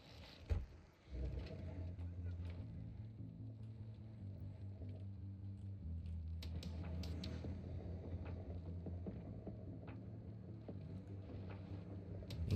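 Samurai-branded car driven in Cyberpunk 2077 version 2.1: a steady low engine rumble holds throughout with a sharp bump near the start and slight swells as it accelerates and turns.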